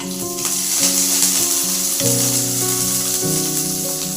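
Dried red chillies frying in hot oil in a pan, a continuous crackling sizzle with a steady hiss, close and loud, with music playing underneath and no talking.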